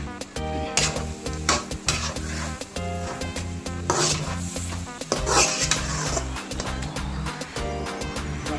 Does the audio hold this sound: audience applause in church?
no